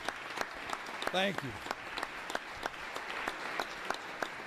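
Audience applause at the California Governor's State of the State address, continuous moderate clapping with sharp individual claps standing out, while someone briefly speaks over it.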